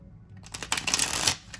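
Vox Arcana tarot cards being shuffled by hand, a stiff riffling burst of card-edge flicks that builds for about a second, then stops, close and fairly quiet with no talk.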